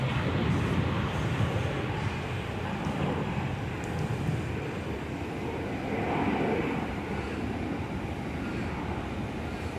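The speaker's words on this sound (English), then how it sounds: "National Jet Express heading off." A National Jet Express airplane takes off at Perth airport, a steady, loud engine roar that holds for the whole stretch with no voices over it.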